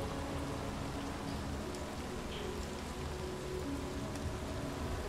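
Steady rain from the video game Detroit, a soft continuous hiss of falling drops on surfaces with no voices, even and unbroken throughout.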